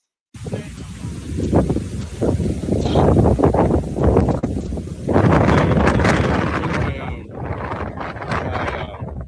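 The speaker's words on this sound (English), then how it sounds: "It's freaking windy." Strong outdoor wind buffeting a microphone, loud rumbling gusts that surge and ease over several seconds and dominate the clip, with a person speaking under the noise.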